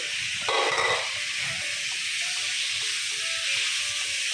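Chicken sizzles with spices in a hot pan, a steady close hiss that flares louder for a moment as the pieces land in the oil, with no voices.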